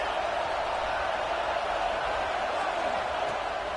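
A stadium crowd roaring in the football video game Blitz on PS5: a dense, steady wash of cheering noise that stays even and unbroken throughout, with no clear talk on top.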